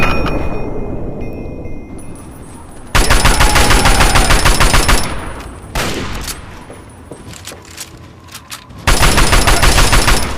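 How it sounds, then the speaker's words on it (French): Gunfire in the video game Fallout 3, loud bursts of rapid automatic shots with metallic clangs, separated by quieter gaps and a few isolated reports, with no talking. "Ah ça tire à côté."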